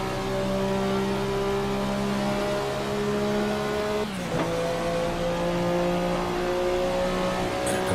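Race car engine at Mosport in Assetto Corsa holding a loud steady drone under load, with one sharp gear shift dip midway before the tone climbs again.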